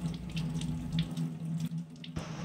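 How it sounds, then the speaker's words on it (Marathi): Curry leaves being washed under a running kitchen tap, a steady close stream of water splashing into a sink with small bursts as the leaves are handled, alone without talk. "तर मी हा कढीपत्ता स्वच्छ धुवून घेतलेला आहे।"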